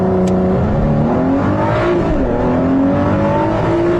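A sports car launches hard in Sport mode, its engine note climbing steadily in pitch through a continuous, loud, close acceleration with a brief gear change, no voices present.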